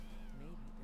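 A house cat gives a single short, close meow with a gently bending pitch, over a faint background.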